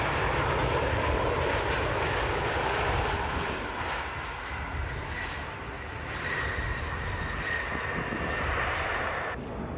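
A fixed-wing airplane comes in to land without flaps, its engine roar loud and steady for about ten seconds, then easing slightly midway before building again.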